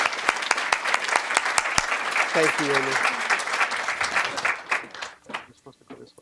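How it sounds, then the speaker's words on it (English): A banquet-hall crowd applauds students at a leadership awards dinner, with dense, steady clapping that thins and fades out toward the end while a nearby voice speaks briefly over it. "And another round of applause for our students,"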